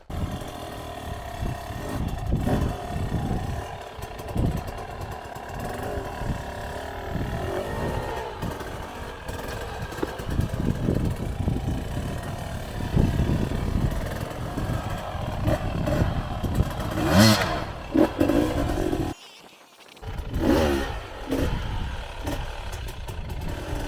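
A hard enduro motorcycle fitted with an OXA exhaust pipe and flywheel weight runs steadily up close, its engine note rising and falling with throttle blips and a brief cut-out near the end.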